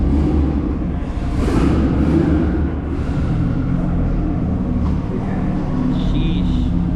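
Deep, continuous engine rumble from a Nissan Z sports car at a car meet, loud and close, with voices talking over the steady drone.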